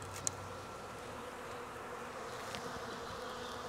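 Bees drink at sugar water feeders in Jacksonville, Florida, during a dearth, giving off a steady, soft buzzing hum with a couple of brief ticks.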